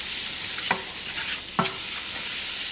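Butter melting in a pan over medium heat, a steady bright sizzle with two brief scraping stirs of a utensil, close and alone without voices.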